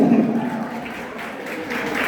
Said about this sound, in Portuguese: Aplausos para o rapaz, merece.